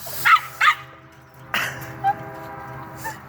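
A dog lets out unusual, pained-sounding whimpers: two quick high yelps, then a longer whine and softer squeaks, close and fairly quiet in a still room.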